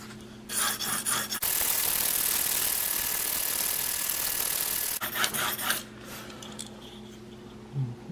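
A Muzzy stainless steel trocar broadhead drawn steadily across an 800 grit sharpening stone, with a continuous close rasping scrape for several seconds, framed by shorter rubbing strokes and light handling clicks.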